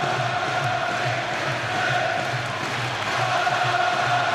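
A boxing arena crowd roars and cheers for Ricky Hatton during his fight with Vyacheslav Senchenko, a steady, dense wall of massed voices that holds at an even level throughout.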